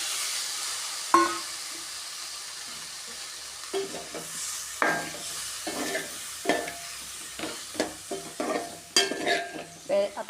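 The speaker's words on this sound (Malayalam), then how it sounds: "ഇനി നമുക്ക് വേവിച്ച് വെച്ച കോളിഫ്ലവർ ചേർത്ത് കൊടുക്കാം." A spoon stirs cooked cauliflower into sizzling, well-roasted masala in a pan, with repeated scraping strokes and clinks over a soft frying hiss that grow busier toward the end.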